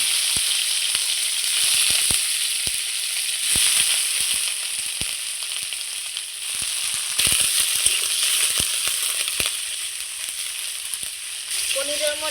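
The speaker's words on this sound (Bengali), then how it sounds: "এবার আমি পনিরগুলো ভেজে নেব।" Paneer fries in hot mustard oil with a loud, steady hissing sizzle broken by scattered sharp pops and crackles, close up and without talk.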